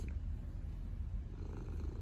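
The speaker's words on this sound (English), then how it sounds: "She has the loudest purr." A cat purrs loudly and steadily in a close, quiet setting, a continuous low rumbling throb with no talking.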